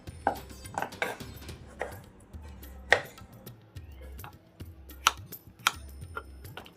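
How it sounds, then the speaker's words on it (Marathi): A knife cuts a bottle gourd (lauki) into one-inch pieces, giving a series of sharp, separate chops on a cutting board, close and fairly loud, spaced unevenly over the stretch. "अशा पद्धतीने आपण हा दुधी भोपळा कट करून घ्यायचा।"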